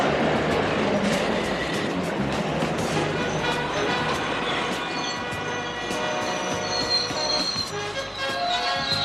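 An underground metro train passes close by with a loud, continuous rumble, rattling clatter and high metallic squeals from the wheels and rails.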